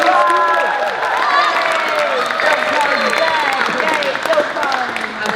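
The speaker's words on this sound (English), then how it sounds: "applause for public school music program" An audience at a classical music session claps for a public school music program, a steady wash of applause with voices and cheers mixed in throughout.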